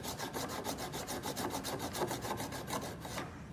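A hand file drawn up and down across an acrylic surface in quick even strokes, a close, steady rhythmic rasping of about a dozen passes that stops just before the end.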